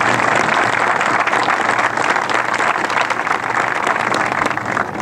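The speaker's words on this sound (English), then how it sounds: "So please, if you would, give them a round of applause." An audience at a naval ceremony gives a sustained round of applause: steady, dense clapping from a sizable crowd, fairly loud throughout and without any speech over it.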